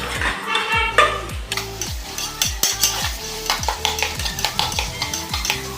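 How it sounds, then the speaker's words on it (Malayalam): Onions, green chillies and chopped tomatoes are stirred in a sizzling pan, with repeated rhythmic scrapes and clinks of a spoon against metal over a constant frying hiss. "ഇനി ഇതെല്ലാം ഒന്ന് നന്നായി വഴറ്റിയെടുക്കണം."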